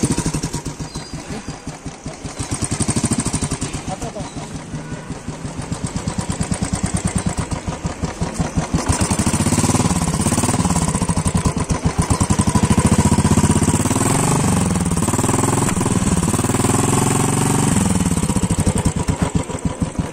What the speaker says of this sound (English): it's a half cut silencer exhaust